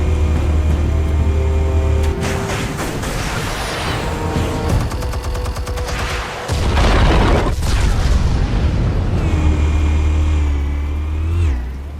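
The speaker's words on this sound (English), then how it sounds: "Explosives armed. Fire when ready." Explosives detonate in Batman: The Telltale Series, with heavy booms and rumbling blasts stacked over a sustained low drone and game score, no voices over it.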